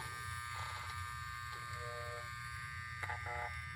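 A 1940s Andis Model E electric hair clipper runs after oiling, giving a steady, close buzzing hum that stays constant throughout.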